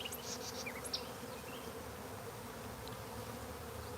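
Honeybees swarm around a box outdoors, a continuous soft buzzing hum with occasional brief higher whines of individual bees flying past close by.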